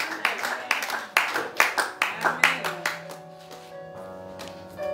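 A church congregation claps to acclaim the Lord, a run of sharp, loud claps in an uneven rhythm over the first three seconds that fades out as sustained organ or keyboard chords carry on underneath.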